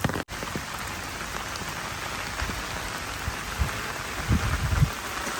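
Steady rain falls continuously at a house, a dense even patter with occasional heavier drips nearby and no talking.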